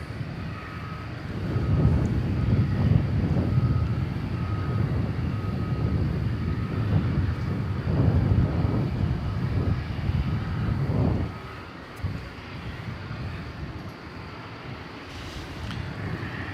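A plane at DFW Airport at night, a broad low roar of jet engine noise rising and holding steady for about eleven seconds, then easing to a quieter rumble as the aircraft moves off, with no talking.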